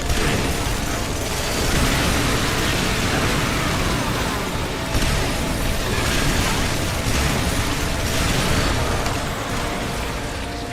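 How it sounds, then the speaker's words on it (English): Heavy cannons firing together in the EDF6 video game, a dense continuous mechanical roar of overlapping blasts and clanking that holds at a steady loud level throughout with no talk. "The sound of both of the cannons going at the same time as mine."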